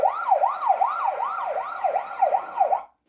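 A fire engine siren wailing in a regular rising-and-falling sweep, loud and close, repeating about eight times before cutting off abruptly, with no voices.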